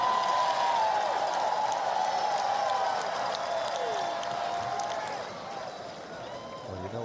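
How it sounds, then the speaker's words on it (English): Baseball stadium crowd during a Cardinals–Pirates game in the 9th inning, a broad sustained roar of fans cheering and clapping that holds steady, then eases slightly near the end. "the fans are cheering for the bat boy in the 9th inning"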